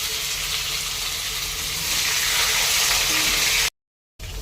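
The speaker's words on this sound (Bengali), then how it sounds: "তো ফার্স্টে এখানে তেজপাতা দিয়ে ফোড়ন দিয়ে নেব, তারপর আলু আর পেঁয়াজ এর মধ্যে দেবো।" Bay leaf and then potato and onion fry in hot oil for fish-head muri ghonto, a steady dense sizzle that grows a little louder, breaks off in a short silence, then resumes.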